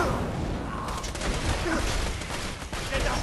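Sustained gunfire and explosions in a Borderlands 2 firefight, a dense loud barrage that never lets up across the whole stretch.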